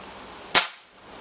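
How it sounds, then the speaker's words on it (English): A single sharp, close crack comes from an unsuppressed Air Arms S400 air rifle firing once, with a short decay into quiet background. "Right, we've got the Air Arms S400s. Uh, this is unsuppressed, so we'll load one in"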